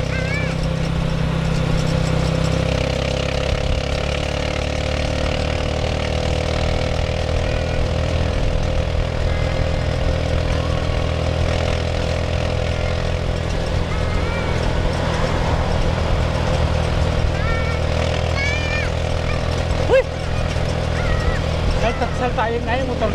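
A TMX Supremo motorcycle with sidecar runs steadily with a loud, droning engine hum that holds throughout while riding in cold weather, with wind rush and voices talking over it.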